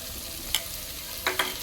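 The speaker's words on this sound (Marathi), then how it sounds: "आता आपण याच्यात जे खोबरं घेतलं होतं ते आपण टाकून घेऊया." Grated coconut is tipped into mutton curry cooking over a wood-fired stove and stirred in. A steady sizzle runs under a few short scraping stirs.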